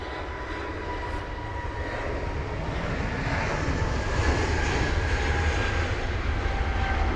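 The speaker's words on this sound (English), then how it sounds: "This is the 320neo off to Barcelona, flight number BA480" A British Airways Airbus A320neo departs London Heathrow for Barcelona in wet conditions, a close, continuous engine roar that grows gradually louder and holds strong to the end, with no talking.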